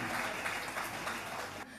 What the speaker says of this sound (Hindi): एक बार जोरदार तालियां स्पॉन्सर्स के लिए